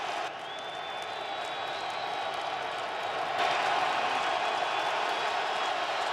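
A large football crowd cheers at Ford Field in Detroit during an NFL game, a steady distant roar that swells slightly partway through, with faint whistles or whoops above it.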